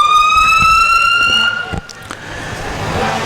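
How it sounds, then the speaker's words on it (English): An ambulance in a Fourth of July parade in Park River blares a loud, steady siren tone up close that cuts off after a moment, leaving crowd noise and voices. "First Care Health Center's emergency service vehicle, and 2 more ambulances from Park River coming by"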